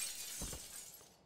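Glass shatters in the video game Prey, a single short, faint crash of breaking panes followed by a brief tinkling decay.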